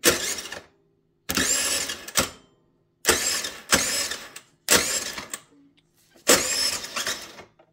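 A scooter engine is cranked repeatedly but does not start: five or six short whirring, grinding bursts with silent gaps between them, close and fairly loud.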